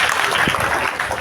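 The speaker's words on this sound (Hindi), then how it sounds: "आइए जोरदार तालियों के साथ अपने शिक्षकों का स्वागत करते हैं" A crowd claps loudly to welcome teachers at a Teacher's Day celebration, a thick, continuous wash of applause that cuts off abruptly at the end.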